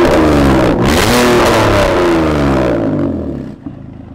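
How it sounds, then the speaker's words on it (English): A concept car's engine revs hard with a sharp whip and a deep, loud growl close by, holding strong for a few seconds before dropping off abruptly. "It's got like a whip and then a deep growl."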